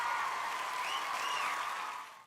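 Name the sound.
applause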